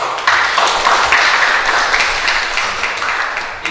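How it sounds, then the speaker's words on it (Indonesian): Audience applause at a talk show, a few seconds of close, full clapping from many hands that thins slightly toward the end, with no clear talk over it. "Beri tepuk tangan."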